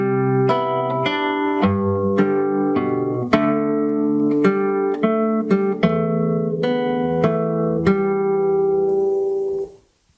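Fingerstyle acoustic guitar plays a full melodic phrase, plucked notes ringing in a steady rhythm with sustained bass and chord tones, close and clear, fading out at the end.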